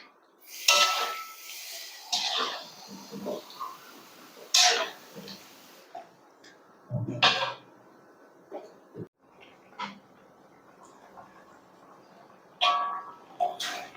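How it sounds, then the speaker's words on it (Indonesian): A spoon stirs chicken stew (semur ayam) with soy sauce in a pan, giving scattered scraping and clinking strokes at close range with quiet kitchen background. "kita masak ayamnya, diaduk-aduk lagi ya"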